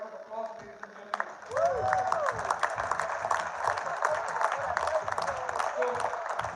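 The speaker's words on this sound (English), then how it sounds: "big round of applause, ladies and gentlemen." Audience applause at a DXN seminar, steady dense clapping and cheering building after a voice speaks at the start, with occasional shouts and speech mixed over the crowd noise throughout.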